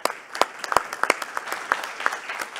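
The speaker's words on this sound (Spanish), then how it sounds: "Un aplauso para Nicolás Adrián Acosta." A modest audience at a DNS hackathon closing claps for a participant, individual claps distinctly audible and irregular rather than a dense roar, with a faint voice underneath.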